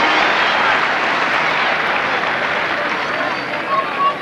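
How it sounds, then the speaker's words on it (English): Home football fans at a UEFA Cup match applaud as a broad, steady wash of clapping and crowd noise, loud and continuous throughout with no pauses. "But applause from the home fans"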